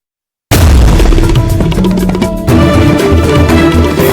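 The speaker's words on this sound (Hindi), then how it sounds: "जो धमाका हुआ उसका किस कदर का इम्पैक्ट था ये जरा आप देखिए" A bomb blast goes off near the Red Fort metro station in Delhi, caught on CCTV. After a moment of silence, a sudden, very loud boom erupts and then rumbles on at high level.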